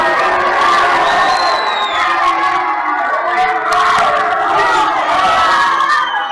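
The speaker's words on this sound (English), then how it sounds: "He's getting booed right now by the majority." A wrestling crowd loudly boos and chants against Jeff Paul, a dense, continuous roar of many voices with rhythmic shouting throughout.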